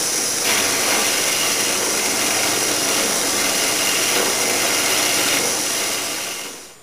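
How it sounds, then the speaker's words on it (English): A 2-flute 1/2 inch mill bit cuts mortises into square cherry leg billets, giving a loud, steady high-pitched whine that holds evenly for several seconds before tapering off at the end. "I'm using a 2-flute 1/2 inch mill bit to cut the mortises."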